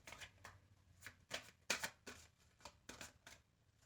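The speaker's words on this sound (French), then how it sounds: "On va mélanger les jeux." Tarot cards are shuffled repeatedly in a quiet room, giving about a dozen crisp, riffling bursts at an uneven rhythm, close and fairly soft, with no one speaking.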